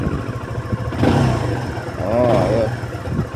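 A Modenas Z15GT motorcycle engine revs in two short rising bursts over a rough idle, close by, with someone talking over it.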